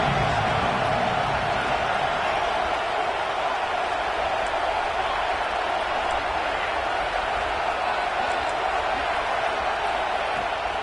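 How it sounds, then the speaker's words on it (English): Stadium crowd in a video game football match, a steady, broad roar of cheering that stays loud and unbroken throughout, with a few faint higher whistles or shouts rising above it. "The crowd gets behind this defense."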